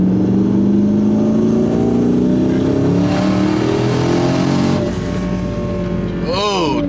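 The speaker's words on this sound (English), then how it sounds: "so this is a 4th gear part throttle pull" A 1200+ whp twin-turbo car pulls hard in 4th gear at part throttle, its engine note climbing steadily and loud from inside the cabin before easing off near the end.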